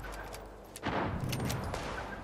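Gunfire in the video game Fallout 76: a sharp burst of several shots starting partway in, loud and close, over a steady game ambience.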